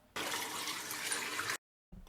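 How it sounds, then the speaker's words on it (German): Water pouring steadily into a container being filled for a sous vide cook, a loud continuous gushing rush for about a second and a half that stops abruptly, then a faint trickle resumes. "So, dann fülle ich es auf mit Wasser."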